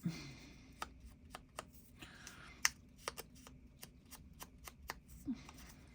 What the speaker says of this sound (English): I will ink this up a little bit